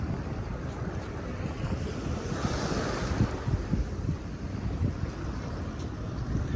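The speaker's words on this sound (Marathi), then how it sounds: "परफेक्ट पिक्चर आहे पाण्यासोबत, अटलांटिक महासागरासोबत." Atlantic Ocean waves roll and wash ashore at Porto, Portugal, a continuous surging roar with wind buffeting the microphone and no voices.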